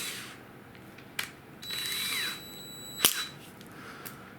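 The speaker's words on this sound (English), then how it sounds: "Take your drill." A small electric drill whirs briefly and quietly in a workshop while wire is twisted for ring shanks, with faint clicks around it.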